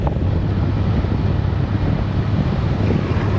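Loud, constant wind rush buffeting a motorcycle rider's microphone on a rainy road trip, a dense roar with low rumble and no talking.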